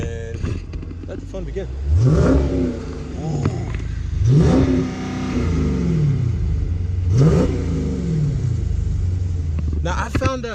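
A 2018 Dodge Challenger Scat Pack V8 rumbles at idle and is revved hard three or four times, each rev rising and falling, loud and close, with a person talking briefly.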